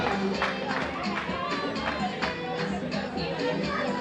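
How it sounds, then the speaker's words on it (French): Applause from a crowd at a school prize ceremony, honouring a young girl. The clapping is dense and steady throughout, with cheering voices mixed in. "On applaudit pour la mini princesse de maman et de papa."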